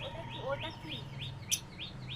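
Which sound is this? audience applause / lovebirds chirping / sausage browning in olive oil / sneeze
lovebirds chirping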